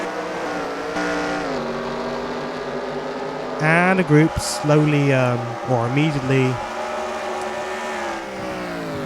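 Championship race car engines in the NR2003 racing video game whine and rev at Shanghai, with pitch sweeping up and down as several cars pass, under steady commentary-style talk throughout.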